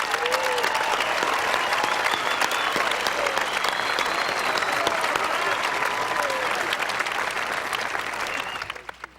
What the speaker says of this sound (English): giving them a hearty round of applause